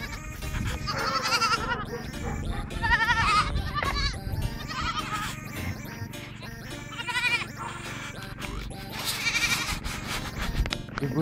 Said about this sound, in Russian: как козлы за мной